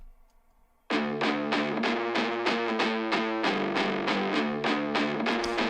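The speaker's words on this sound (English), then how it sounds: "the other guitar plays more of like a plucky, chuggy thing on the right, which sounds like this." A distorted electric guitar plays a plucky, chugging riff, with tight, rhythmic palm-muted stabs that repeat steadily and loudly on their own, starting after a short quiet lead-in.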